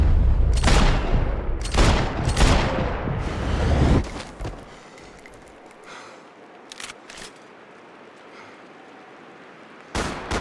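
Gunfire in the video game Max Payne 3: a rapid burst of heavy, loud shots, then a quieter stretch with scattered small clicks and impacts, and a final loud shot at the end.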